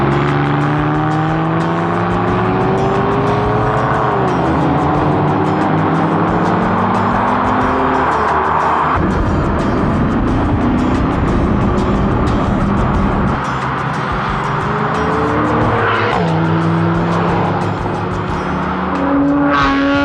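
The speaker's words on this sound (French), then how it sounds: "l'occasion de faire vrombir les moteurs pour la première fois" Rally car engines roar and rev hard on a night climb up Mont Revard in Savoie, loud sustained acceleration with rising and falling pitch as gears change, a car passing close and the throttle lifting and reapplying throughout.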